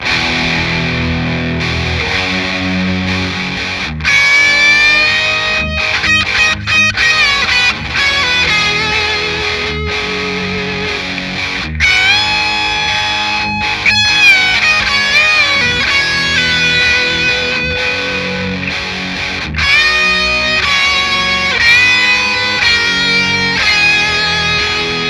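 An electric guitar with distortion and chorus-like effects plays the melody of a song, with sustained bent lead notes ringing over chords for a long continuous passage.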